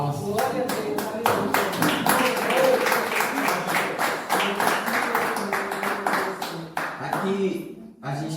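Worshippers in a church congregation clap their hands together in steady rhythmic praise, a loud, sustained crowd of claps filling the room before tapering off near the end.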